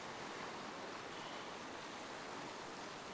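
Waves wash back down a fishing beach in a continuous broad hiss of surf, steady and fairly close, with no voices over it.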